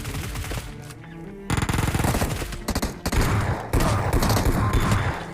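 Rapid automatic gunfire crackles in PUBG Mobile, loud bursts of shots in quick succession with short pauses between volleys, close and dominant.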